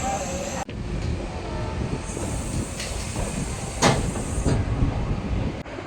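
Shahid Express train 12347 pulling out of platform 6 at Howrah Junction, heard from on board as a steady rumble of coaches with clanks and sharp metallic squeals.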